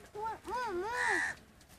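Three harsh, drawn-out crow caws in quick succession, close and loud, with a slight rising-and-falling tone to each call.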